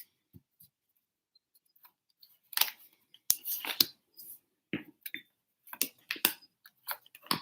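Tarot cards being pulled and handled, with soft scattered clicks, taps and light slides of card stock, quiet and close, in irregular clusters.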